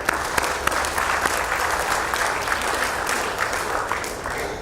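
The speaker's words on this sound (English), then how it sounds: "Let's give a round of applause to Farzana." A large audience at a professional women's awards ceremony claps steadily and densely for several seconds, a full, even burst of applause with no voices rising above it.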